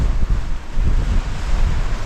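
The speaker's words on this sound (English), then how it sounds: "these swells are coming up from the Southern Ocean because they are like a big tower block of water" Big Southern Ocean swells rolling in off New Zealand's west coast make a deep, surging rumble of surf, loud and close with heavy wind buffeting the microphone.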